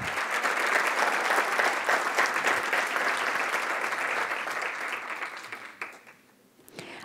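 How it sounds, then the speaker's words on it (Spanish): A graduation-ceremony audience gives sustained applause for the new doctors. Dense clapping holds steady, then thins out and fades toward the end. "Damos un aplauso de felicitación a los nuevos doctores del área de Ciencias"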